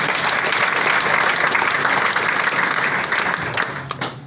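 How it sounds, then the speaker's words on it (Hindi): A seated audience at a business training event breaks into loud, dense applause, sustained and close for several seconds before it begins to thin out toward the end, with no voices standing out. "जोरदार तालियां"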